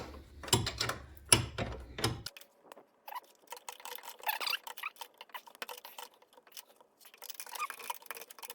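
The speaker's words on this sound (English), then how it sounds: "You're tightening a bolt. It's a 19 mil." A ratchet tightens a 19 mm bolt while VW caster shims are installed, giving close rapid clicking bursts at first, then quieter irregular ticks and rattles.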